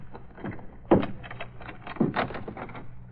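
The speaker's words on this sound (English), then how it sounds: "Unlock the door." A closet door in an old radio drama is unlocked and opened: a sharp clunk near one second, then a second latch knock and creaking movement, with some muffled background murmur.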